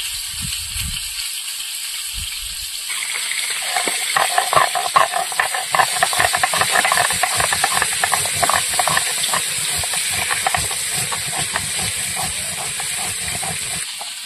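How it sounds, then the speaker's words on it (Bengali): Chillies being ground by hand on a flat grinding stone, a steady run of rough scraping, rasping strokes close up that starts after a couple of seconds of quiet and continues without break. "এবার লঙ্কা তুলে নিয়ে লঙ্কাগুলো বেটে নেব"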